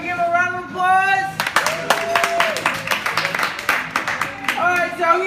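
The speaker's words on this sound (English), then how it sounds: "Can we give him a round of applause?" Restaurant guests at Joe's give a short, lively round of hand claps for a boy turning 12, with a voice speaking just before and after.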